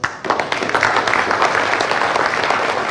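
A studio audience claps steadily for a singer on an Indonesian television talk show, dense and sustained applause filling the room throughout.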